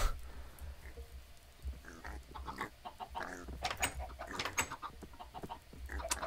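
A video game rooster in TerraFirmaCraft clucks and calls in short, scattered bursts over a low background hum, fairly close and moderately loud.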